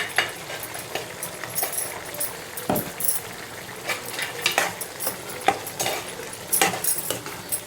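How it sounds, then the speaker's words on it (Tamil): Mutton perattal is stirred in a pan with a metal spoon, giving irregular scraping and clattering strokes over a soft background sizzle, close and moderately loud. "போட்டு நல்லா சுள்ள சுள்ள கிண்டி அப்படியே கொத்தமல்லியை போட்டு இறக்கிடும்"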